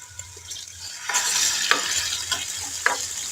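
Chilies and garlic sizzle steadily in oil in a pan with a few sharp stirring scrapes and crackles, close and fairly loud, with no talking.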